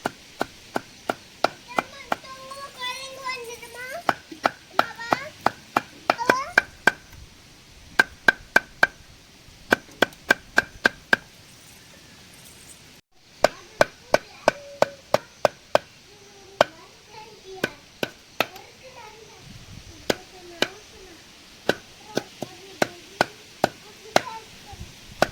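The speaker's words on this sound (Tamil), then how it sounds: "குடல் அப்பா வெட்டிகிட்டு இருக்கிறாங்க." A knife chops mutton intestines on a board at home in steady, sharp strokes, dozens of close knocks in quick runs separated by short pauses, with faint voices in between.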